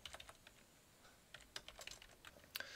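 Fingers tapping out a URL on a computer keyboard, quiet, close key clicks in irregular bursts with short pauses between them.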